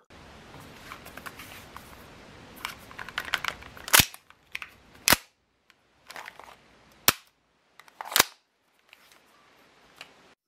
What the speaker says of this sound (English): It shoots with a decent accuracy, but even with a polymer slide, cooldown quickly kicks in.